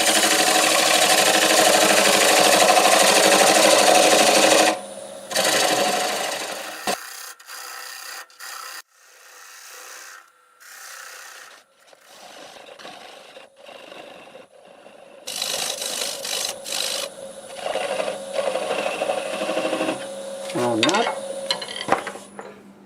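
Wood lathe spinning a natural edge maple bowl at about 750 RPM, a tool scraping and rasping loudly in bursts, with quieter pauses and intermittent hum between cuts.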